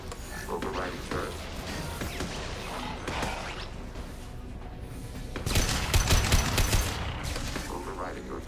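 Hacked turret fire in Mass Effect 2 rattles in mechanical bursts under a busy sci-fi battle, with a heavier, louder volley of rapid shots rising near the end.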